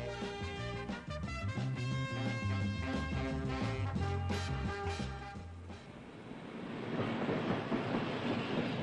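A train crosses the Friedensbrücke border bridge at Frankfurt on the East German–Polish border in 1977. Its rolling rumble and wheel noise come forward after loud background music fades out partway through.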